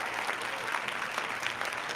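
Recorded crowd applause effect played on a livestream, a soft steady patter of many hands clapping, faint and continuous for about two seconds with no voices over it.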